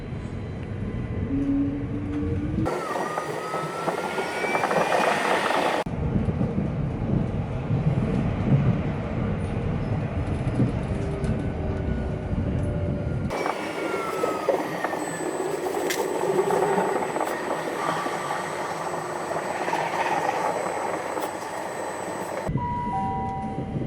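A London tube train rumbles steadily along a viaduct on the East London Line, with rising and falling mechanical tones, the sound cutting in and out in sections at moderate volume.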